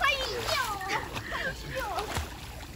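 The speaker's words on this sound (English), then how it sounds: "He's swimming actually." A person swimming in a pool, giving continuous close splashing and sloshing water under the voices of excited people, including a child, talking over it.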